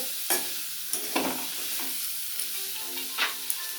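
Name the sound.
frying and stirring banana flower mixture in a pan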